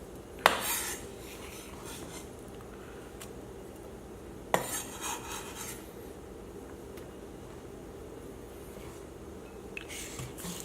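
Baby bok choy is dumped into a medium-sized bowl, making two sharp clattering thumps a few seconds apart, each followed by a brief rustle, against quiet kitchen background with no speech.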